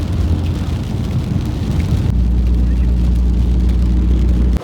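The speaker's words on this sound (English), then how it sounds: "It's completely now raining throughout." Steady rain drums on a taxi driving through Langkawi in a downpour, a loud continuous wash over deep engine and road rumble that grows heavier and lower partway through, with no voices.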